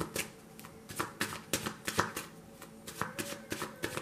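A deck of tarot cards is shuffled by hand close up, giving repeated crisp riffling bursts in an irregular rhythm, with short pauses between them and no one talking.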